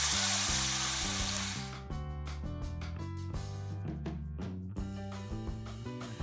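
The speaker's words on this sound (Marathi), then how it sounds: "मसाला हा तेलात चांगला परतला गेला पाहिजे" Masala gravy for bhendi masala fries in hot oil in a pan, a loud close hiss at first that fades beneath steady tonal background music.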